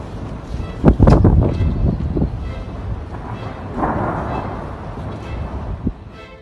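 Violent winds of storm Filomena sweeping across Spain, with loud gusting roars and thunder-like rumbles, the strongest burst early on, fading to a steadier howl.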